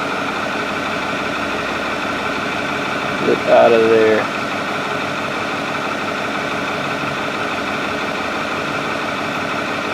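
A Ford 6.4 Powerstroke diesel idles steadily and close by, its low rumble constant throughout, with a man's brief spoken remark breaking in near the middle while the engine is lacking power.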